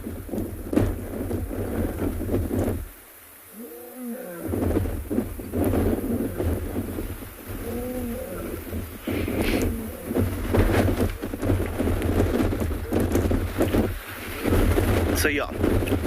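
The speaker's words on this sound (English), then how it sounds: "Oh, this wind is horrible." Strong wind buffeting a microphone outdoors on a sunrise safari, a loud continuous roar and rumble with a brief lull, and a person speaking faintly beneath it.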